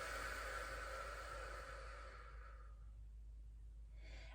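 A long, deep exhale during a breathing exercise, a soft breathy rush that fades over a few seconds, close and quiet with no talk.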